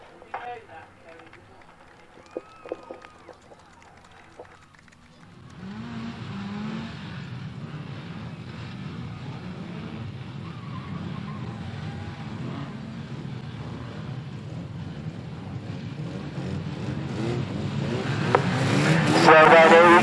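Street banger racing cars at Standlake roar into life together as the race gets under way, a dense engine rumble that swells and grows louder toward the end, with talk over the start.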